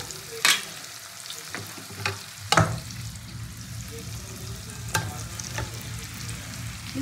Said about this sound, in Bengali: পকোড়াগুলোকে দিয়ে একটু নাড়াচাড়া করবো